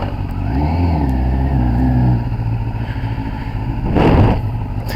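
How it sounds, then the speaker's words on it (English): A Kawasaki ZX10R sport motorcycle engine pulls away on a ride, revving up through a rising whine, dropping off, then swelling in another loud burst of acceleration near the end. "Let's go for a little ride,"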